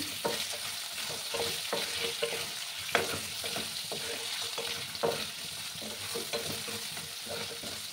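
Potatoes are lightly fried in a pan for a Bengali rohu fish curry with ridge gourd. There is a quiet, steady sizzle, and repeated scraping stirs and clicks of a spatula sound close by.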